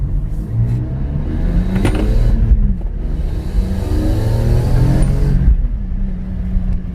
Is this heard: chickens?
no